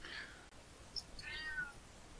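A house cat gives a faint, short meow, quiet and somewhat distant against a low background hiss.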